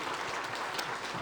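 A Korean church congregation at a parish devotion service claps together in a brief burst of applause, an even, dense patter at moderate volume.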